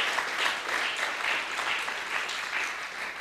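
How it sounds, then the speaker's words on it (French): Audience applauding at a diploma ceremony, a steady wash of many hands clapping at moderate distance, sustained evenly for the whole stretch without voices over it. "Je vous prie de l'applaudir quand même."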